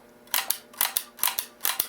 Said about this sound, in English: 100 years later, you can flicker flacker the shutter just like it was yesterday.